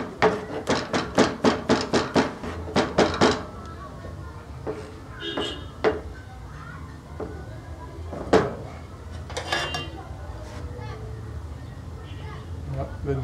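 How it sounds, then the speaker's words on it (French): Garlic is chopped with a knife on a board for Congolese liboké, a quick run of about a dozen sharp, even knocks followed by scattered slower chops, with people talking throughout. "on commence à hacher l'ail aussi."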